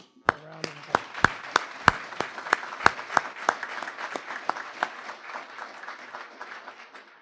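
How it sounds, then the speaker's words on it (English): An audience gives a round of applause at a city address, with sharp individual claps at the start that thicken into steady clapping and then taper off over several seconds. "if we could give you a round of applause."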